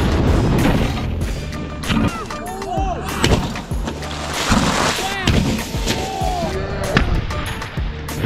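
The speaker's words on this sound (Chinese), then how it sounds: "可当飞镖落下的瞬间，纸张被砸得稀碎" A thousand-jin heavy dart slams into a stack of ten thousand sheets of paper, giving several loud crashing smashes and thuds, with a narrator's voice running over the impacts.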